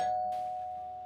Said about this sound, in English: So let's go ring the bell.